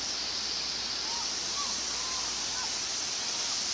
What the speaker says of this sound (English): That's the pretty waterfall.